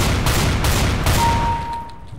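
An XM1014 shotgun firing in Counter-Strike: Global Offensive, loud booming shots in rapid succession, about four blasts roughly a quarter second apart, then a fading tail with a thin ringing tone.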